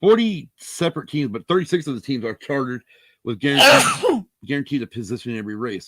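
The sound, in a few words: sneeze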